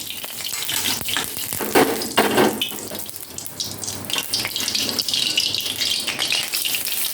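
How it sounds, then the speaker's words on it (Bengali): Whole spices (green cardamom, cloves, cinnamon, bay leaf and dried chillies) tempering in hot oil and ghee, giving a loud, continuous sizzle and crackle that runs steadily throughout with no voices. "ছোটো এলাচ লবঙ্গ দারচিনি তেজপাতা এবারে ক লঙ্কা দেব এই যে কিছু লঙ্কা এবারে এবারে তেলগুলো দিয়ে দিলাম তেল ঘি"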